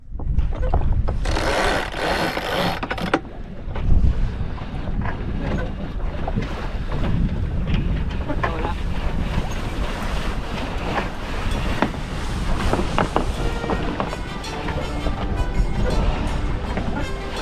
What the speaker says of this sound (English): we decided to put the Spinnaker up just as the sun is beautifully going down